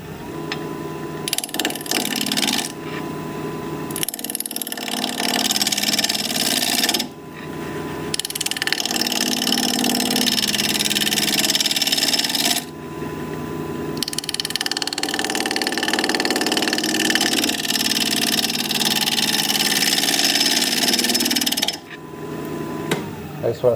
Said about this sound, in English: We're going to be turning at 1130 RPM, 5/8 inch bowl gouge, mask and face shield on.